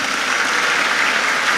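Steady crowd applause at an Islamic boarding school gathering in Ponorogo, East Java, a dense even wash of clapping throughout.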